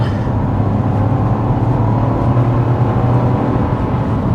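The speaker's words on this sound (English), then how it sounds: "just a little bit of loss of traction when you're taking off there" A 2024 Buick Envista pulls away hard from a stoplight, its engine droning loud and steady with a deep low rumble throughout as the front tires briefly lose traction, no voices over it.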